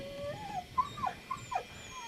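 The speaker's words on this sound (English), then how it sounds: "The Walton dog's playing with Shiloh" Dogs at play around a log house property, giving several short whimpers and high whines in a quick, uneven run, fairly close and moderately loud with no talking.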